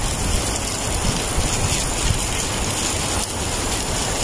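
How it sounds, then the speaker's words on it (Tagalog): Steady, dense hiss of rain falling in dark, cold, rainy weather, loud and continuous throughout with no pauses, close to the microphone and heard alone. "ang lamig. Maulan, tingnan nyo."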